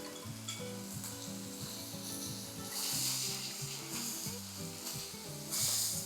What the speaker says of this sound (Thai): เราสามารถกดลงนี้ก็ได้นะลูกแฮมเบอร์เกอร์ มันจะได้สุกไวๆ